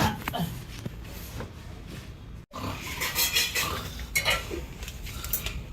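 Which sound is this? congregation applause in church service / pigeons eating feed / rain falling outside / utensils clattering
utensils clattering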